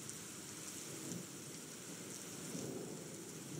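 Rain and thunder in the video game Suikoden: a steady, dense hiss of rainfall with low rumbling underneath, continuous and even throughout with no voices.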